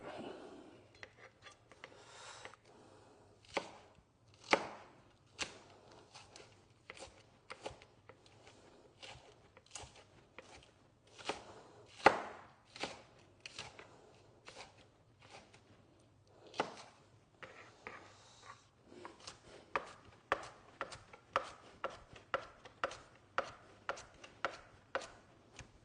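Spring onions chopped quickly with a knife on a board, a run of sharp, irregular taps close by that turns into steadier, faster chopping toward the end, with a low hum underneath.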